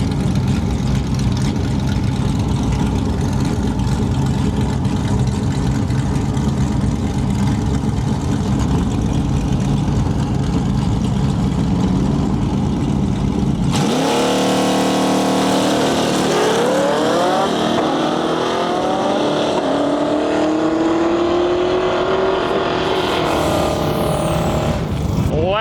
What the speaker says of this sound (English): we got a Duster in our lane and a 5th Gen Camaro far side of the track